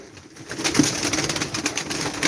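Pigeons, adults with white chicks in a loft, coo in soft repeated calls close by, with rustling and scuffling around them and no speech.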